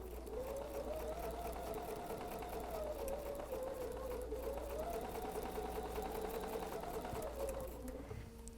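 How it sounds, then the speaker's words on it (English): A sewing machine back stitches quilt fabric in a steady, close, whirring run, the motor pitch rising and falling slightly over several seconds before stopping. "I'm going to go ahead and back stitch just a little bit."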